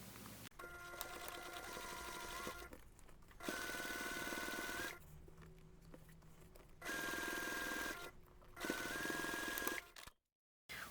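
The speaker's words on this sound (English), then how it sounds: "then you're going to top stitch alongside that finished seam." Sewing machine top stitching alongside a finished seam on a diagonal zipper pocket project, running in steady whirring stretches broken by short pauses, close up with no talk.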